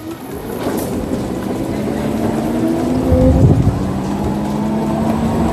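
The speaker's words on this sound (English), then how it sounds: "doing the inclination test of the Simple One in ride mode" Simple One electric scooter climbing an uphill incline in ride mode, a steady motor and wind rumble with a faint rising whine, continuous and fairly loud throughout.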